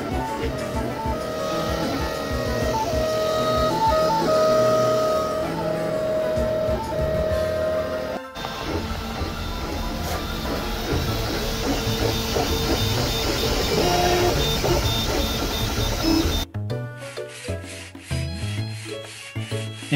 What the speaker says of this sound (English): I've been using this 3D printer for about 2 years now, and it, to this day, is mesmerizing to watch it work.